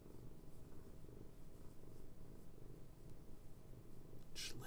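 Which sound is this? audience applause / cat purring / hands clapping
cat purring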